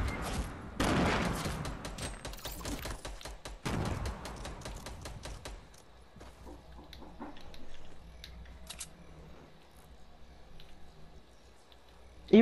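Rapid gunfire from the video game Fortnite, dense bursts of shots in the opening seconds, then sparser, scattered shots at a distance, with occasional talk.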